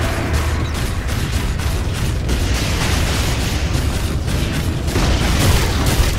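A tower destroyed in a Dota 2 match: a dense, loud, continuous rumble of booms, crashes and rattling debris for several seconds, with no voices.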